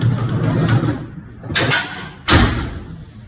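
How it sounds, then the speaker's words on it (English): The bonnet of a 1950 GMC truck with a 1UZ engine is lowered and shut, ending in a loud metallic slam after an earlier rattling clunk, with a low rumble beneath. "let's see if this bonnet shuts"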